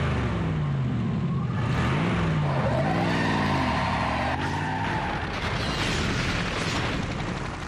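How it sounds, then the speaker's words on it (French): Cartoon vehicle wheels skid and spin in the dirt, with a continuous whining, wavering engine and tire squeal that rises and falls over a rumbling ground noise, loud and without speech. "Je patine trop, j'ai besoin d'un coup de main."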